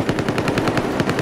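Rapid automatic gunfire from a squad-based shooter video game, a steady fast burst of evenly spaced shots close and loud with no talk over it.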